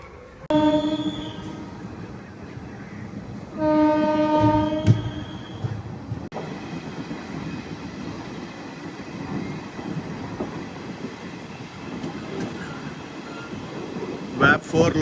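A passenger express train pulls out of Bhimavaram Town station behind a WAP-4 locomotive: two loud horn blasts, then rumbling, clattering wheels on track, with brief squeals near the end.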